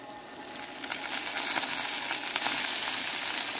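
Washed thoodhuvalai (climbing brinjal) leaves sautéing in a pan, a steady close hiss and crackle of frying that swells slightly and holds throughout.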